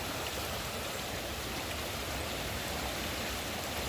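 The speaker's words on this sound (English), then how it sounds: "It just started raining." Rain falling steadily outdoors after rising floodwater in Tuscaloosa, a dense continuous hiss of drops with no break or voices.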